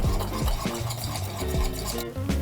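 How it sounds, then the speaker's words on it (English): A whisk scraping rhythmically around a pot of cheese sauce for macaroni and cheese as cheese melts in, repeated close strokes with a rasping, stirring texture. "Whisk that until it melts."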